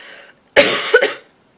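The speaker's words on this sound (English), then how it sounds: "I'm sorry if you guys hear me coughing a lot in this vlog." A single person coughs once, a close, loud, harsh burst of about half a second with a short second push at the end, after a brief trail of quiet background sound.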